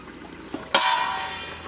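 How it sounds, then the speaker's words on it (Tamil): Lid set down on a cooking pot of simmering dried meat curry, one sharp metallic clang followed by a short ringing tone that fades slowly, near and fairly quiet, with no talk. "மூடி போட்டு மசாலாவில் வேக வச்சுக்கலாம்"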